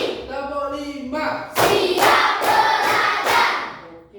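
Rhythmic group hand clapping in a Hindu religious education class, a run of several sharp claps in steady counted beats, following a teacher's spoken voice at the start.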